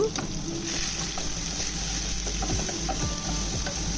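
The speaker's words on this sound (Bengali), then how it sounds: "এবার থেতো করা সবগুলো উপকরণ দিয়ে বেশ সুন্দর করে ভেজে নেব" Crushed ingredients fry in mustard oil for a Tripuri-style Malabar spinach fruit dish, a soft steady sizzle with occasional stirring scrapes, fairly quiet and close, under a low background hum.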